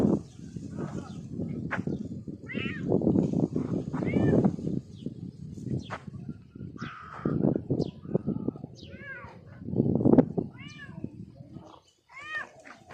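A cat meows repeatedly in a string of rising and falling calls, close by and fairly loud, over a low background rumble with some faint voices.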